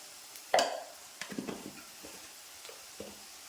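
Ginger, garlic and green chillies fry in sesame oil while a spoon scrapes and stirs, giving one sharp clatter early, then scattered soft taps and a faint sizzle in a quiet kitchen.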